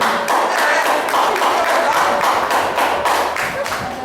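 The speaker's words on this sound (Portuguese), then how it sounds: "Eu quero que os irmãos dêem uma salva de palmas para a mulher" A church congregation gives a round of applause, loud and close, with rhythmic, somewhat synchronized clapping pulsing steadily throughout.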